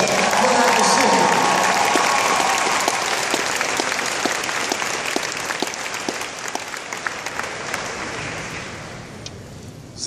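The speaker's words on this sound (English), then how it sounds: "Give yourselves a round of applause for that decision." A convention crowd breaks into loud applause that starts strong, then slowly thins out over ten seconds, with scattered individual claps and some voices mixed in as it fades.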